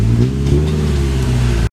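A Chevy Cobalt SS on a dyno, running methanol injection, roars at high revs in one loud sustained pull with strong low harmonics, then cuts off abruptly at the end.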